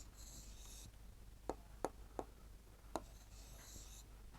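A pen moves by hand across paper forming Urdu letters, a faint scratching with soft rubbing stretches and several sharp little taps as strokes begin and end, with no voice.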